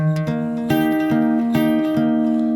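Acoustic guitar played in a steady fingerpicking pattern, thumb on the bass strings alternating with the fingers on the upper strings, ringing clearly and close with sustained notes and no talking.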